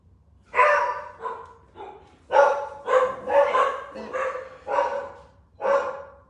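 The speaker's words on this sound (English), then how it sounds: "This neighborhood, everybody walks their dogs." A neighborhood dog barking outdoors, a series of about nine loud, fairly close barks in irregular bursts.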